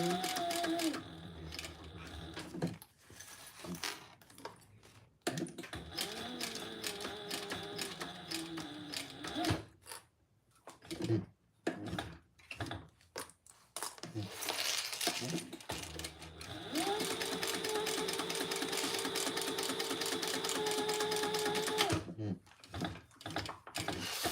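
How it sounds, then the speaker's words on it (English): A sewing machine bastes and top stitches the bottom gusset of a crossbody bag. It runs in rapid mechanical bursts of varying length, broken by pauses, clicks and handling noises, and ends with one long steady run. "I'm just basting this bottom gusset together, 1/8 of an inch, and then top stitching."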